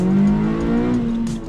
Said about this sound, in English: The main reason for getting the intake is being able to hear the engine while I'm driving.